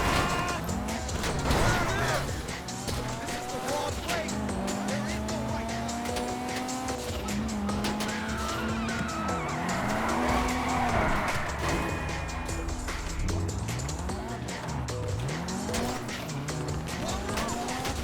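Car engine roaring and tires squealing through skids in Grand Theft Auto V, a loud continuous drone with repeated wavering squeals as the heist car slides around corners, over game music.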